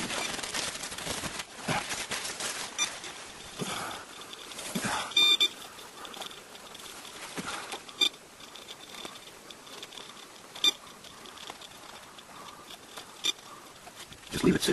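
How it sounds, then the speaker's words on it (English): Rain patters steadily on an umbrella during a morning downpour in eastern Ontario, a dense, fairly quiet drumming broken by occasional sharper drips and taps. "Well, we definitely got screaming hot rain here in eastern Ontario this morning."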